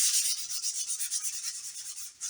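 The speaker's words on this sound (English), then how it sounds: "I'm just gonna go over with a 400 grit sandpaper" Hand sanding with 400 grit sandpaper on a front lip for a 2020 Toyota Camry SE AWD, a rapid series of soft, hissy back-and-forth rubbing strokes, close and steady, with a brief pause near the end.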